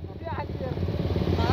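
A Suzuki Satria FU motorcycle fitted with a bobok exhaust revs nearby, its throaty, pulsing engine note steady and loud through a short burst, with a voice briefly audible over it.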